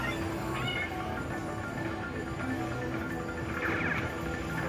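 Cat meow effect from the Karma Kitty feature on a RailRoad Riches slot machine in a casino, a short mewing call over steady casino machine chimes and background hum.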